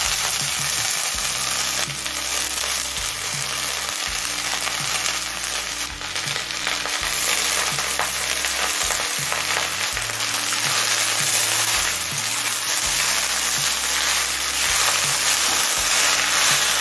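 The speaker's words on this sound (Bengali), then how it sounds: "পেঁয়াজটা হালকা লাল করে ভেজে নিয়েছি। এবার শাকটা দিয়ে দেব।" Susuni greens go into a pan with onions already fried light red, setting off a loud, dense, continuous sizzle with faint stirring scrapes, heard up close and alone.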